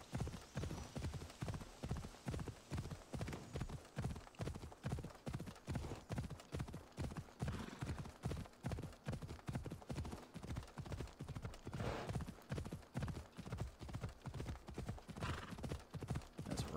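A horse gallops at a steady rhythmic clip-clop across terrain in Assassin's Creed Odyssey, the hoofbeats fast, even and continuous throughout.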